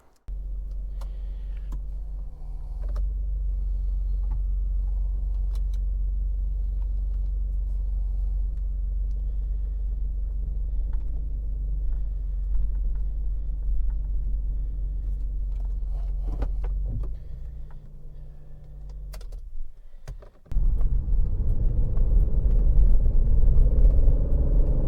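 A 1999 Ford Mondeo V6 idles steadily with a deep, even low rumble and faint ticking, near and alone; around the twentieth second the sound briefly drops away, then returns louder and rougher.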